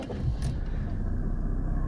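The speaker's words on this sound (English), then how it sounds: "and the car fires up" A 1995 Mercedes E300 diesel engine cold-starts and settles into a steady, low, rumbling idle close by, with a brief mechanical whir at the start.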